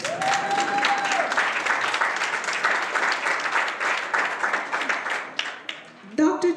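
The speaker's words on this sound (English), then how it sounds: "You need to applaud her." An audience at a Martin Luther King Day event in Ottawa applauds warmly, sustained clapping for several seconds after a brief tone, tapering off as a voice begins speaking at the end.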